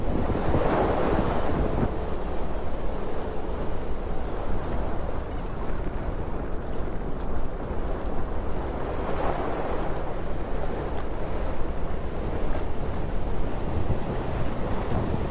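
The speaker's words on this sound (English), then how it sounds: "We walked along the shore, listened to the waves" Ocean waves roll onto the shore at Ocean Beach in northern California, a loud continuous roar of surf with heavy wind buffeting the microphone, swelling in surges throughout.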